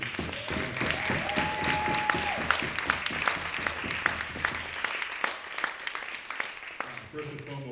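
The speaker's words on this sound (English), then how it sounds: "Everyone, please clap one more time for our features." Audience at a poetry cafe clapping for the featured poets, a steady spread of hand claps with voices talking over it and a brief tonal sound early on.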